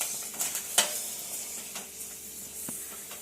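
Vegetables being tempered in a hot pan give a steady, close sizzle with a few sharp clinks of a utensil stirring against the metal, and no voices over it.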